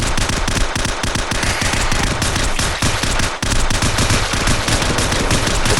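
An MP5 submachine gun fires in the video game SAS 3, a loud, dense stream of rapid automatic shots that barely breaks for the whole stretch, with no talking.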